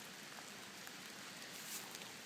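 Rain falling outdoors during metal detecting in Pittsburgh, a steady dense hiss of drops on surfaces, close and even, without any voices.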